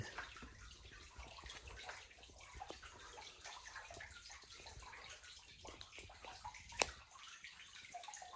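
Water flowing and dripping in a cave, a steady soft trickle with scattered splashes and one sharp drip or knock near the end, heard alone.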